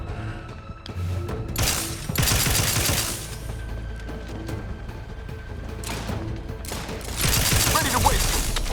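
Automated turret gunfire in The Outer Worlds 2 on very hard difficulty: repeated loud bursts of rapid mechanical shots, broken by short pauses, with clanking machinery and other combat noise between them.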